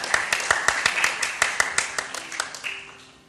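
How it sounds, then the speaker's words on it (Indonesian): Children at an online Sunday school service clapping along in a quick, steady rhythm of about a dozen sharp claps, close and bright, slowing and fading near the end. "Tepuk tangan dong buat Tuhan Yesus."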